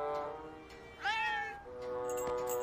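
Cats at a building housing stray animals meow, one clear rising-falling meow standing out over a steady background hum, with fainter mews around it.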